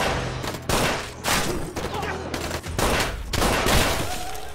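Dense, continuous gunfire with overlapping bursts and rapid shots, loud and chaotic throughout, with no pauses.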